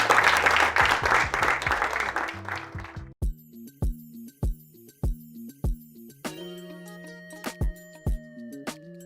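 An audience applauds at a retreat gathering with a burst of dense clapping for about three seconds. Clear, evenly spaced musical notes follow, ringing out alone.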